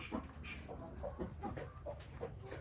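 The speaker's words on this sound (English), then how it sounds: "There's chickens fighting over the same nesting box." Chickens squabbling over a shared nesting box give off a run of clucks and squawks, close and fairly quiet, over a steady background hum.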